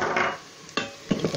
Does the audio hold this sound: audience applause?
no